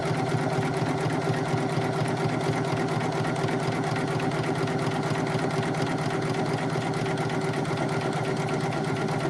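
A Poolin EOC06 single-needle embroidery machine stitches a patch, a steady, rapid mechanical whir and needle chatter running unbroken and close throughout.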